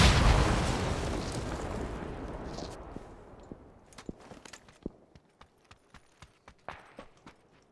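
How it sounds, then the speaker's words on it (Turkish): A bomb explodes in a video game with a loud, deep blast that slowly rumbles away over a few seconds, followed by a run of quick, irregular clattering steps. "Bomba attım oraya."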